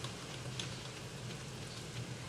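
Rain in Stardew Valley, an even, continuous patter of drops on surfaces, soft and steady throughout with no voices.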